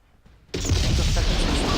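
An explosion in the 1995 video game Command and Conquer, Covert Operations: after a quiet moment a sudden loud, dense blast of rumbling noise bursts in and holds steady.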